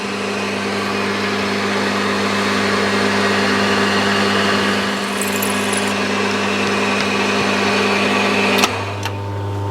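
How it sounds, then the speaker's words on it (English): A milling machine drills a hole in metal, with a steady loud motor hum and whine carrying on continuously before a sharp click and a change in pitch near the end. "Drilling and tapping a hole"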